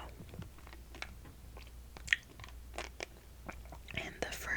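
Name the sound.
eating hard candy in the mouth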